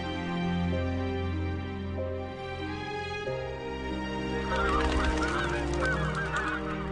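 Migratory geese at the Yangtze estuary honk repeatedly in a loud cluster, their calls rising over a bed of sustained orchestral music.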